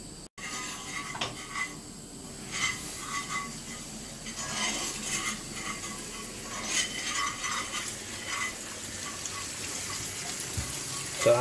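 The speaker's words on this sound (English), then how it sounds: "So I'm just rinsing under cold water" Cooked pasta is rinsed under a cold running kitchen tap, a steady splashing flow with light clinks of a pot or colander, close and continuous.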